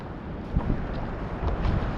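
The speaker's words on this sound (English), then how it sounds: "Look at these waves." Sea waves wash and roll in a steady broadband rush, with wind buffeting the microphone and a few swells surging up briefly, close and continuous with no voices.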